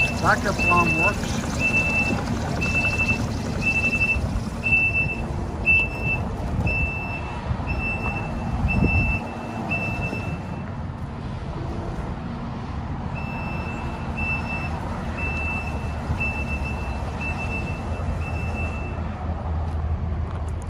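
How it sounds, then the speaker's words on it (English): A 2023 Kubota SVL97-2 compact track loader's backup alarm sounds in a yard. It gives a steady series of evenly spaced, shrill beeps over the machine's engine rumble, pauses partway through, then resumes. "Backup alarm works."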